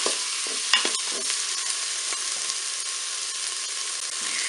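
Peppers are stirred into hot oil in a Cookeo multicooker on its browning setting for a Spanish-style rice, giving a steady close sizzle with a few scraping stir sounds near the start.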